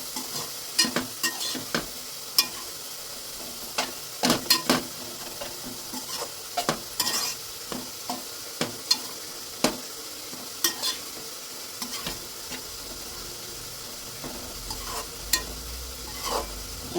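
Palak and tomato curry fries in a pan with a soft, constant sizzle under frequent sharp scrapes and taps of a stirring spoon, close by and without speech.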